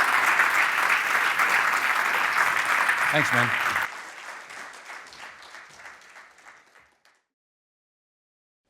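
Audience applause after a talk at a political spectrum lecture event, loud dense clapping for about four seconds that drops away and fades out, with a brief spoken thanks heard.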